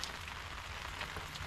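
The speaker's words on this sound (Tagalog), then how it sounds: "So inulan agad, unang camping." Steady rain pattering on surfaces at a campsite, a dense continuous hiss of drops close by with no voices over it.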